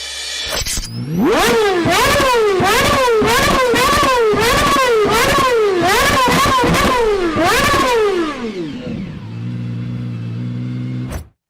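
A high-revving engine blips repeatedly to a shrieking peak in quick rhythmic rises, loud and close, then settles into a low idle before cutting off.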